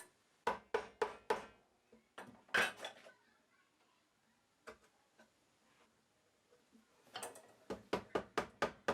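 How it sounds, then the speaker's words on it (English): A chisel deepens a knife mark in wood on a hand-tool mitered corner box, giving sharp, close, bright taps in short rhythmic bursts with quiet pauses between them. "I'll slightly deepen the initial knife mark using my chisel."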